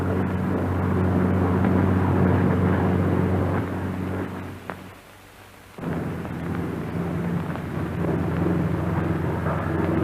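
Republic P-47 Thunderbolt fighter engine droning loud and steady in flight, a low rumbling roar that briefly drops away mid-pass before surging back to full power.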